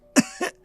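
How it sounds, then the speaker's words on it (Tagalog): A person coughs twice in quick succession, a strong first cough followed by a softer second one, close and clear against a quiet room with no talking. "Inuubo ka na naman."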